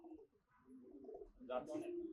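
Pet pigeons cooing quietly in a loft, soft low coos rising and falling over a couple of seconds, with a brief brighter flutter near the end and faint background noise.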